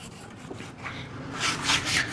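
A cloth wiping and drying a freshly stained wooden ladder-back chair, rubbing along the wood in close, soft, continuous strokes that grow slightly louder toward the end, with no talking.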